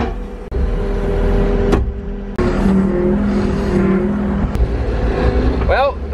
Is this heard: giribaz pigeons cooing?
no